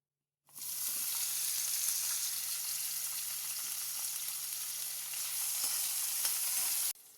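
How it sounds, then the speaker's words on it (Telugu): Onion and tomato fry in a spoonful of oil in a pan, giving a steady, close, even hiss of sizzling that starts abruptly and cuts off at the end, with no talking. "ఒకటి ఆనియన్, ఒకటి టమాటో ఫ్రై చేసుకుందాం."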